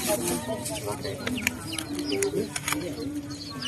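A fortune-telling chicken clucks in short, irregular bursts over a steady background hum, with a murmur of voices mixed in.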